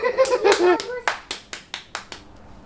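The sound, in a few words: clapping hands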